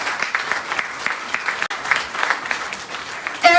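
An indoor audience applauds union workers, United Steelworkers members, at a rally, a steady crowd clapping with small swells, and a voice begins speaking at the very end.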